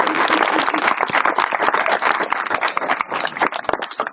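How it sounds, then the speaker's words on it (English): An audience at an evening history talk claps in a dense, close burst that stays steady and loud for about four seconds. "let's give a round of applause"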